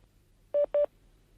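Two short telephone keypad tones in quick succession while a call is being transferred to another line, clear and isolated against a quiet low hum.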